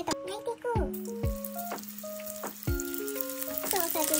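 Chicken meatballs frying in a pan beside a pot of warming miso soup, a steady sizzle running underneath loud tonal background music.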